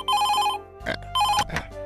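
A cartoon telephone rings in two short electronic bursts separated by a brief gap, bright and clear with no one talking.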